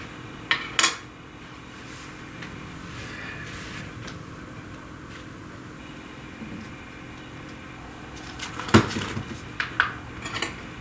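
Metal utensils clink and rattle while someone rummages for a spoon at home, with a sharp clatter near the start and a denser burst of clinks toward the end, all close and fairly quiet, with no talk.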